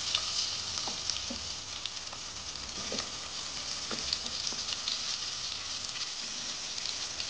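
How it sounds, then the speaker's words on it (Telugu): Onions sizzle in hot oil with cumin seeds, a dense, continuous crackle and spatter heard close up without any voices. "ఆనియన్స్ కొంచెం వేగాలి."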